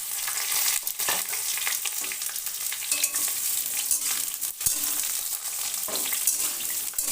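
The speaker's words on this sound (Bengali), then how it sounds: "এবার দিয়ে দেব ঝিঙে, ধুয়ে কেটে পরিষ্কার করে রেখেছি," Chopped ridge gourd added to a hot pan and frying, a steady crackling sizzle broken by scraping stirs and clinks of a spatula, close by, with no talking.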